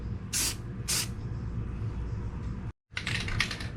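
Rust-Oleum Metallic Cobalt Blue spray paint hisses from a can in two short bursts, followed by a longer, uneven spray after a brief silence, close up with no talking.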